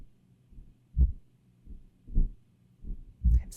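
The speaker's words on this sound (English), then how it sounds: "It's the feeling of a heart beating." Deep, booming heartbeat of an enormous giant, each pulse a low thud arriving in slow paired beats, close and heavy with nothing else around it.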